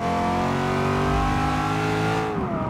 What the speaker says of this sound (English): Just the ferocity of that engine note.